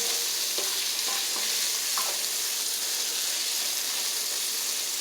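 Cabbage sautéing in a pan for a steak-and-cabbage dish gives a steady, close frying hiss, broken by a few soft clicks of stirring during the first couple of seconds.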